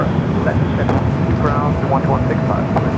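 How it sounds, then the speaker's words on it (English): A Boeing 787-8 Dreamliner jet at Los Angeles LAX airport, ready for a north-side takeoff, gives a steady broadband roar throughout, with someone talking over it. "787-8 Dreamliner. Should be heading over here for Northside takeoff."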